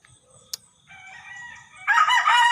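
A rooster crows loudly and close by, one harsh drawn-out call that swells near the end, with a few faint clucks and a brief sharp sound just before.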